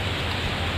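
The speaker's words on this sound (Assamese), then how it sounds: "ডাৱৰীয়া বতৰ দুই এটোপাল বৰষুণ দিছে আৰু ধুনীয়াকৈ বতাহ মাৰি আছে" Light rain falls outdoors under an open, cloudy sky with a breeze, giving a steady, soft, even hiss with no distinct drops standing out.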